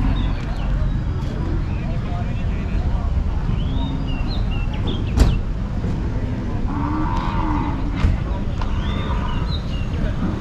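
Cattle moo at an open morning livestock market in Lopburi where cows and buffalo are sold, with several low, drawn-out calls over a busy outdoor murmur and talk.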